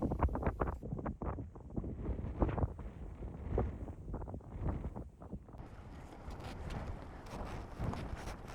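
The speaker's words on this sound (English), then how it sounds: "it is extremely windy up here" Strong wind on an exposed height in the Falkland Islands buffets the microphone in low rumbling gusts, roaring steadily throughout with no voices.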